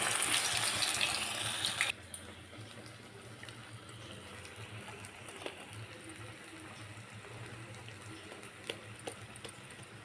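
Medu vada, urad dal fritters, drop into hot oil and fry, starting with a loud hissing sizzle for about two seconds that settles into a quieter, steady bubbling crackle.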